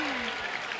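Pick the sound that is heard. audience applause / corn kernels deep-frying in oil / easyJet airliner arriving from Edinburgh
audience applause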